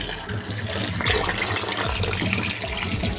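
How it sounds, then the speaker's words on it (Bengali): Mixed vegetables are rinsed under a running tap in a sink, a steady, fairly loud rush of water with splashing and small knocks as they are handled. "সবজিগুলো ভালো করে ধুয়ে নেব।"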